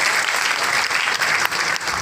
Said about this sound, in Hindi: तालियों के माध्यम से हम आपको साष्टांग प्रणाम करते हैं